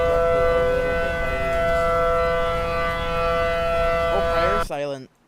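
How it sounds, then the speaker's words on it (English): Tornado sirens in the Roblox game Twisted, a loud steady civil-defense siren tone that holds then winds down and cuts off abruptly near the end, followed by a brief voice. "Oh, prior sirens turned on."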